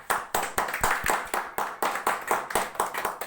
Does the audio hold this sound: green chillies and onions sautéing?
no